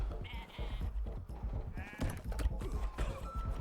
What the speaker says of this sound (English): I want to chase down these sheep